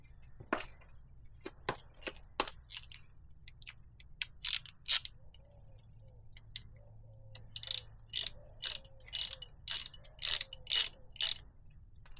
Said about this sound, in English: the kit here came with some banjo bolts, and I'm going to install those here